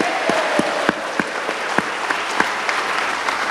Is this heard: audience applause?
yes